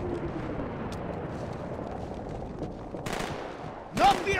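Gunfire rattles in the Halo video game under a dense noisy battle ambience, with a couple of sharper bursts toward the end and a voice briefly audible.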